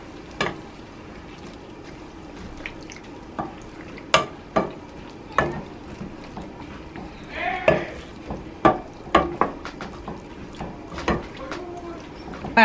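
Greens with smoked fish being stirred in a pot, a string of sharp spoon scrapes and knocks against the pot over a soft background hiss, irregular and close.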